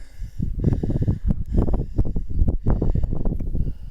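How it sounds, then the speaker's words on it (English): Strong gusty wind in the badlands near Abiquiu, New Mexico buffets the microphone, producing a continuous low rumbling roar that swells and dips throughout. "Wind, lots of wind."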